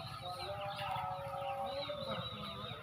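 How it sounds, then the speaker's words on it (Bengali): Many chickens clucking and calling together on a poultry farm of about eight thousand birds in two sheds, a dense continuous flock chorus with no talking. "বিশাল বড় একটি মুরগির খামার এখানে আট হাজার মুরগি আছে"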